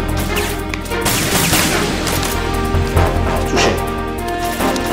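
Explosions and gunfire from the video game Metal Gear Solid 2 crash repeatedly at close range, with sharp bursts and heavy booms layered over a continuous game soundtrack.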